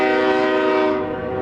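A train on the Canadian Pacific railroad through Davenport, with a loud, sustained horn blast that holds a rich, steady chord close by over the rumble of rolling wagons, fading slightly toward the end.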